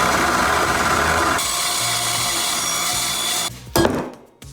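A power saw cuts steel tubing for a hitch hauler, screeching continuously and loudly for a few seconds before the blade winds down and the sound trails off with a short clatter.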